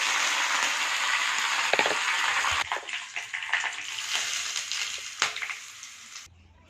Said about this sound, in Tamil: அதுக்கு வந்து ஒரு தாளிப்பு கொடுத்துடலாம். எண்ணெய் ஊற்றி வச்சுருக்கிறேன்.